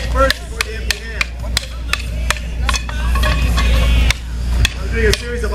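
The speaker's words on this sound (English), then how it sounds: "I'm doing a series of offensive, defensive maneuvers with the stick." Rattan sticks clack sharply in a Filipino Kali martial arts demo drill, a dozen or so crisp wooden strikes in quick irregular bursts over a steady background hum of a crowded event hall.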